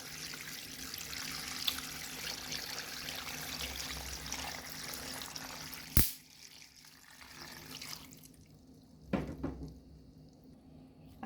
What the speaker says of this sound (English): I just have enough water just to cover my sorrel.